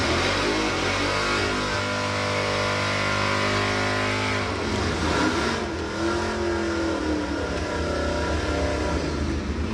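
A drag race car with a 350 cubic inch Chevy engine and a 9-inch rear end roars loudly and steadily, its note rising as it accelerates down the strip at Santa Pod.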